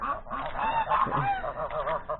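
Several geese honk repeatedly and overlapping in snow, a busy chorus of nasal calls close by.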